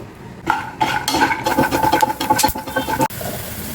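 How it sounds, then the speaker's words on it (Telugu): Peanuts frying in oil in a pan for chutney, a close crackling, sizzling rattle as the nuts are stirred and scraped around the metal pan, steady for a few seconds without talk. "ఒక కప్పు పల్లీలు వేసి వేయించుకోండి"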